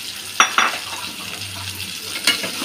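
Boiled chickpeas and potatoes are stir-fried together in a spiced pan. A few quick spatula scrapes and clinks stand out over a faint, steady sizzle, with no talking.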